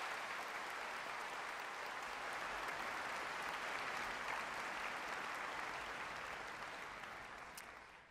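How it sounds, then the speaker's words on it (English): Audience applauding at a university spring commencement ceremony, a dense continuous wash of clapping from a large crowd heard from a distance, steady throughout and fading slightly at the end. "a round of applause for almost the entire stage party."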